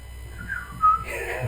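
A person whistles a traditional signal call, a short wavering tone rising to one brief loud peak and then sliding higher, heard close and clear over faint background noise.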